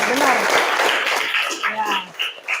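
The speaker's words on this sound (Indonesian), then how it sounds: "Terima kasih Ai, beri tepuk tangan." Applause from a classroom group, a burst of clapping and cheerful voices that thins out after a second or two into scattered claps under continuing talk.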